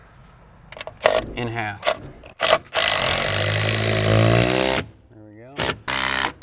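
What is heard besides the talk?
screwing ledger board into studs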